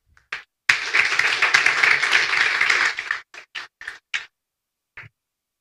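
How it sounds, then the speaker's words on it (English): A small audience at a startup incubation event claps for a pitcher: a short burst of applause lasting about two seconds, then a few scattered single claps trailing off into silence. "So a big round of applause to Bruno Fernandes from Pluggable AI."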